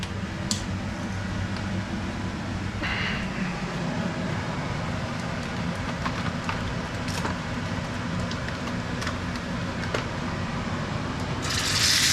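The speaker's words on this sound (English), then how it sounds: "Stick the fan on till the window's open." A kitchen extractor fan hums steadily in a home kitchen, a constant moderate whir with a few faint clicks and clatters from cooking nearby.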